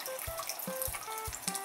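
Water drips from porous volcanic rock inside a lava tube cave, a series of distinct plinks at irregular intervals roughly every third of a second, close by and over a steady trickling background.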